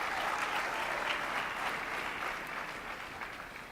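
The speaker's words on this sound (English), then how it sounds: "give them a big round of applause" Audience applause at an event celebrating Los Jets, a dense, steady wash of many hands clapping at once that holds strong and then thins slightly toward the end, with no voices.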